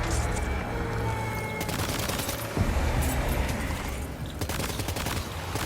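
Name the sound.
gunshots at a BT in video game Death Stranding 2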